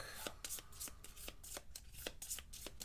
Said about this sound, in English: I need to shuffle these real quick.